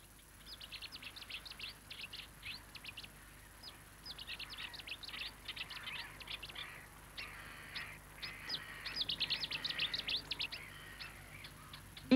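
A Cetti's warbler sings from reed beds in East Sussex, delivering loud, rapid bursts of explosive chirping notes in repeated phrases over a faint steady background hiss.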